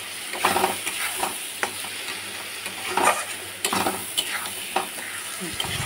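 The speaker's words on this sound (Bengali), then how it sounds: "নাড়াচাড়া করবো।" Potatoes and fish being stirred in a cooking pan, with repeated scraping clatters of a spatula over a steady frying sizzle, close up and with no talking.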